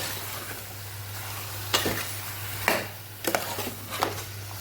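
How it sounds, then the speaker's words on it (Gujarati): Pigeon pea, brinjal and potato curry being sautéed with spices in a pan, with a steady low sizzle and several short scraping stirs of a spoon, moderately close and with no talking. "મસાલા સાથે શાકને સરસ સાતળી લેવાનું છે"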